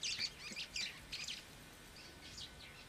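Faint, high chirping calls from black-necked weaver birds in Kenya repeat in short bursts, some overlapping, against a quiet outdoor background.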